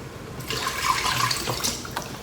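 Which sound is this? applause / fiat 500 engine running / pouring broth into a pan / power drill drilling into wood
pouring broth into a pan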